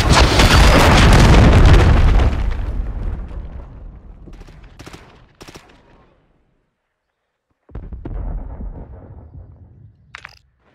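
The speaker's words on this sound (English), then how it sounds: "Hostiles launched a cruise missile." A cruise missile explodes in the Call of Duty video game: a loud, deep boom with a long rumbling decay fading over several seconds, followed by sharper cracks and a second burst of rumble near the end.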